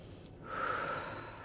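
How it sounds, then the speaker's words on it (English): A single deep, slow inhale during prenatal yoga, a soft airy breath sound that swells after a short pause and holds briefly, close and quiet with no talking. "We have a couple rounds of breath here"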